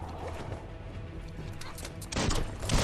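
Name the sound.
gunfire from the video game Biomutant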